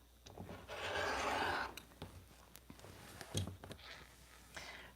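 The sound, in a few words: trimming fabric on a cutting mat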